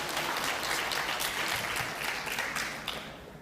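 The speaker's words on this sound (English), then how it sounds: "let's give Gary a nice round of applause and welcome him" A crowd at a 2021 NFHS awards ceremony applauds with dense, sustained clapping that tapers off slightly toward the end.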